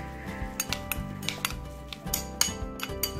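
Buttered crab mixed in a bowl, a quick series of close clinks and scrapes of a utensil against the dish, irregular and fairly soft, with no voices.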